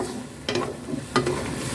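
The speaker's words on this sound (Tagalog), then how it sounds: "at kumukulo na ang ating nilotong ginisa" Soft bubbling and sizzling from a pot of sautéed mung bean stew, with a couple of brief scraping stirs over a steady low simmer.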